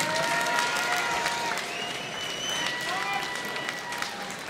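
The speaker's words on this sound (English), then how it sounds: "let's have a nice round of applause for both brawlers, please." Applause from a large crowd at a boxing event in an ice and events center, a steady wash of clapping with scattered cheers and shouts, fairly loud throughout.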